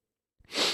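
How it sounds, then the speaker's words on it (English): A single short, breathy cough bursts out after a moment of silence, close to the microphone. "now I have a cough"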